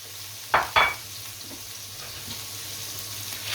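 Cuttlefish dropped into a pan of frying prawns and garlic for seafood paella, two sharp clattering splashes, then a steady close sizzle and hiss carrying on alone.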